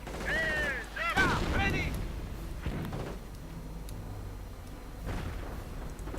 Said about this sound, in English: Troops up here getting absolutely blasted into the dirt. Mortar rounds flying down as well.